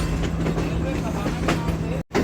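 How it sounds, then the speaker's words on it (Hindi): Tezgam Express, the 8 Down train, pulling into Khanewal Junction railway station with a steady rumble and rolling noise throughout, a brief cutout near the end. "7:55 पर 8 डाउन तेज़गाम पहुंचने लगी है खानेवाल जंक्शन रेलवे स्टेशन।"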